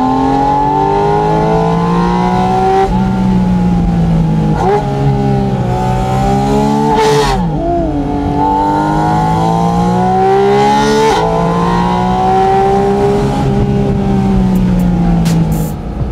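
Porsche 718 Spyder RS (2023) with its exhaust in sport mode, a loud sustained engine note rising and falling through several rev sweeps, with sharp dips between them, and a voice talking over it.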